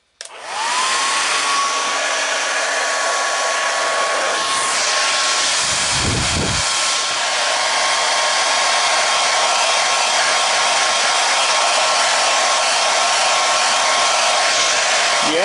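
Heat gun or dryer heat-setting freshly airbrushed paint on a fishing lure, a loud steady blowing whoosh with a faint whine, starting abruptly and running continuously up close.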